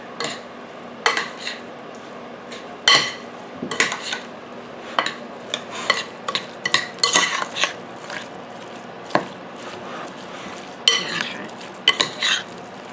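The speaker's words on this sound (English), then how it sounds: "Now we're going to mix all this up." Cabbage roll ingredients are stirred together in a mixing bowl, producing repeated scraping and clinking strokes of a spoon against the bowl at an uneven rhythm. The sounds are close and fairly loud, and no one speaks over them.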